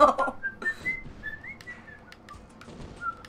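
A person whistles a short, wavering tune during a Battleblock Theater gaming session, soft and close, with faint game sounds and noises around it.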